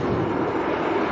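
A Beechcraft plane taxiing out at Leeds Bradford Airport in picking-up wind, heard as a loud steady engine roar mixed with wind rumble.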